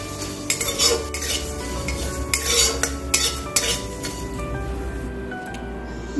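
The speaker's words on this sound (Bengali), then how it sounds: "এবার আমি ভালো করে এটা ভেজে নেব।" Dry spices and dried red chillies fried over a low gas flame for a vegetable cutlet masala, a utensil stirring and scraping against the pan in repeated clinks over a steady low hum, close and alone.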